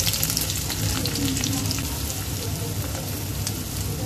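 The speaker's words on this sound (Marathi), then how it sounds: "कांदा थोडा लाल करून घेऊया." Chopped onion fries in about two tablespoons of hot oil with coriander for a prawns masala, giving a dense, steady sizzle that stays close and loud for a few seconds with no talking.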